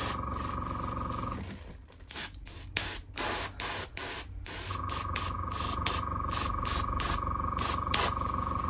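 An inexpensive airbrush sprays paint onto custom Bape sneakers in a steady hissing stream, broken near the middle by a run of short rhythmic on-off bursts. A faint tonal hum from the compressor sits underneath at times.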